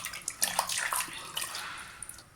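Dried tapioca pieces are swished and washed by hand in a vessel of water, giving irregular splashes, sloshes and drips at close range.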